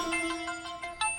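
A telephone rings with a repeating electronic ringtone pattern, short bright tonal bursts recurring about every fifth of a second, moderately loud and close, with no talking over it.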